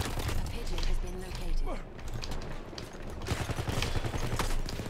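Automatico submachine gun fire in the Battlefield 1 video game, with rapid bursts and scattered gunshots amid battlefield din, while a voice talks over the action.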